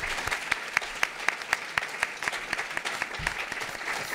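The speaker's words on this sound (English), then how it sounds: "a round of applause, please, for everybody again" Audience applause after a talk on dining and design, a steady wash of clapping from a crowd with distinct sharp claps standing out near the front, sustained throughout.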